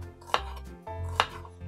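Kitchen knife chopping napa cabbage on a cutting board during home cooking, two sharp distinct chops close by over a low steady hum, no talking.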